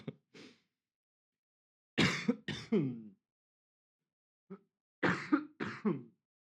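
A man leading a sermon coughs and clears his throat in several short bursts, loud and close, separated by pauses of silence.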